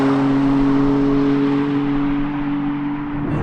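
A 700 bhp BMW M4 at full throttle in third gear gives a loud, sustained engine drone with steady harmonic tones that holds for several seconds, heard without speech.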